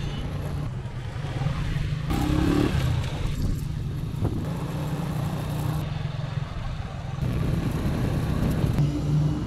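A motorcycle ride through Arandas, Jalisco, with a steady engine drone and heavy wind rumble running the whole way, rising slightly in the middle and near the end.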